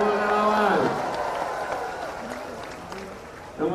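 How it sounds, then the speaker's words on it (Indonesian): Applause and crowd noise for volunteers at a presidential campaign rally in Batam swell loudly at first, then fade to a scattered murmur while a speaker talks over the crowd. "Tepuk tangan buat simpul relawan."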